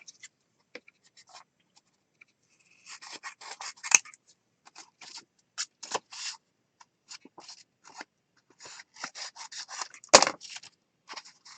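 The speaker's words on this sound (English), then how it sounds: "I'm going to trim this, cutting off these edges" Scissors trimming the edges off paper during a mixed media craft session, a string of quick crisp snips and rustles in short bursts, close and fairly quiet, with one sharper louder cut near the end.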